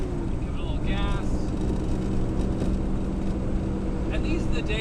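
A 1969 Ford Mustang Boss 429 engine drones steadily and loudly while the car accelerates on a sunny drive, with someone talking over the engine noise.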